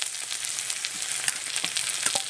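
Dried red chillies, chopped onion, ginger and crushed garlic sizzle steadily in a pan, with a few soft clicks and scrapes as they are stirred; close and continuous, no voices.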